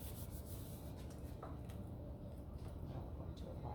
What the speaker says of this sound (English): sanitize hands.